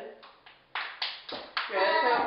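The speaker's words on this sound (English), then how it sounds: "First you can clap." Kids and parents clap their hands in a short sequence of sharp single claps that speed up and then blend into a burst of overlapping clapping, with voices talking alongside.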